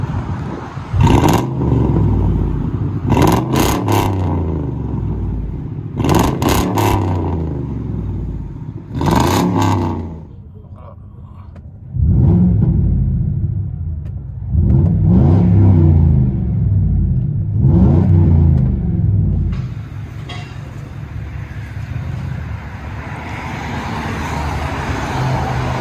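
A 2005 Mercury Grand Marquis with a 4.6L V8 and true dual straight-pipe exhaust revs repeatedly and loudly up close, with sharp throttle blips separated by idle and then longer sustained revs.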